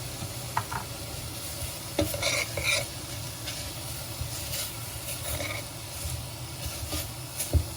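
Ingredients for a Thai frog dish with phak phraew, with fish added, are stir-fried in a pan. A soft continuous sizzle runs beneath repeated scraping and clattering stirs.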